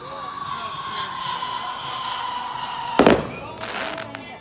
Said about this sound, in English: I love fireworks. Oh my gosh, I love fireworks.